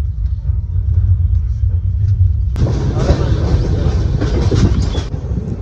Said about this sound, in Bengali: চেল রিভার, এই চেল রিভারের উপরে ব্রিজ ক্রস করছে।